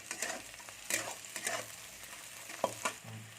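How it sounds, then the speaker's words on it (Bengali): Whole garlic cloves fry in oil in a pan with already browned onions, giving a steady soft sizzle broken by a few brief stirring scrapes and clinks, close and moderately loud, with no voices. "রসুনগুলো আমি একটু ভেজে নেবো।"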